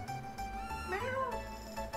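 A cat's sliding meow from the Super Nintendo game Chrono Trigger rises and falls once over steady, bright chiptune background music.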